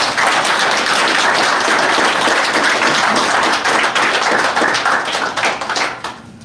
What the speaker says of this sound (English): can we please give, I know he doesn't want this, but a round of applause, please